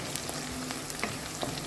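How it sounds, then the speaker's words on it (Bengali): Onions frying in a pan with chili powder for a rui fish curry with eggplant, potato and tomato: a brief, faint, even sizzle with small crackles and no voices. "একটু ভাজা ভাজা হয়ে যাক পেঁয়াজের সাথে।"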